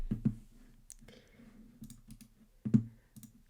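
A computer mouse clicks a few times to copy an image, with sharp single and double clicks in sparse bursts over a quiet background.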